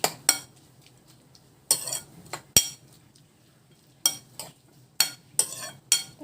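A bowl of dressing for sweet potato leaf salad with fish sauce and ground pepper being mixed, with sharp intermittent clinks and scrapes of a spoon against the bowl between quiet pauses.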